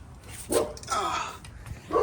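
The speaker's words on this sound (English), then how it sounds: "That's my dog Chance, he's barking." A couple of sharp dog barks, a little distant, separated by a short pause amid background noise and what sounds like faint talking.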